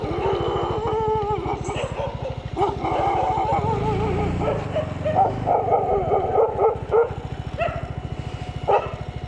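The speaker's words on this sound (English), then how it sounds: "More fucking dogs." Several dogs bark and yip repeatedly in rural Thailand, fairly close, with an engine-like steady drone underneath throughout.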